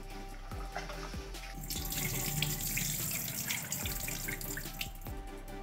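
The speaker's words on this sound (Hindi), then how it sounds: "पहले हम दाल धोएंगे 2 बार कम से कम और चावल 3 बार" Lentils and rice are rinsed under a running kitchen tap, a steady rushing stream of water splashing into grains in a pot with no voices.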